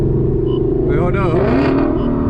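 A car engine revs close by through a quick gear shift, its pitch rising, dropping briefly and then climbing again, with people talking over it.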